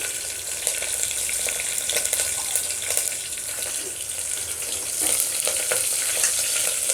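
Curry leaves and dry red chillies fry in hot oil for a gongura dish, producing a continuous close hiss with fine crackles and occasional stirring scrapes, swelling slightly louder toward the end.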